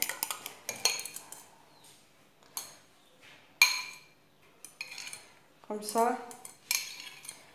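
A spoon clinks and scrapes against a bowl while eggs are stirred into a lemon tart mixture for verrines, in short irregular bursts with quiet pauses between; a voice briefly speaks.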